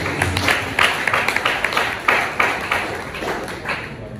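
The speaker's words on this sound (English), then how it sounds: "Can we give them a round of applause?" An audience at a university library week celebration gives a round of applause for the library staff: dense, steady clapping from many hands that carries on for several seconds at a fairly close, even level.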